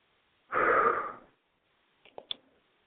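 One deep, breathy exhale, close and fairly loud, lasting under a second, then quiet and a few short soft sniffs or breath catches near the end.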